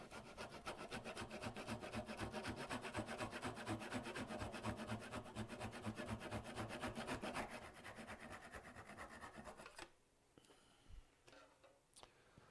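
A wooden egg cup is sawn off a lathe with a fast, rhythmic rasping stroke that runs loud and steady for about ten seconds. It then stops abruptly, leaving a few faint knocks.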